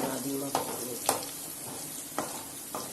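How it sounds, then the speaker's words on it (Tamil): Onions sautéing to golden brown in a pan for fish curry, a soft steady sizzle broken by several sharp spatula scrapes and taps, close up and without talking. "அந்த வெங்காயம் நல்லா கோல்டன் கலர்ல சேஞ்ச் ஆகுது. நல்லா பொன்னிறமாக வதங்குது."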